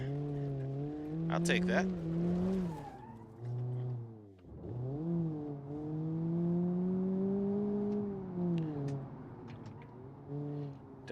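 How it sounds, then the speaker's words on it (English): Engine of an Ibishu Miramar GTz in BeamNG.drive droning and shifting pitch through a drift, with a light tire squeal mixed in under a voice talking. "Actually got a nice drift going through here."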